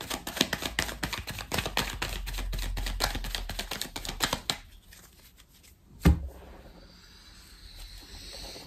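A tarot deck is shuffled with a dense run of quick, close card flicks for about four seconds, followed by a quieter pause and a single soft thump as the deck is cut.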